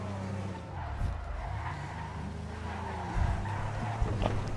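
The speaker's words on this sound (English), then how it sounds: "Driving like a maniac." A car in GTA V story mode is driven recklessly, its engine roaring steadily while tires skid and squeal in several bursts.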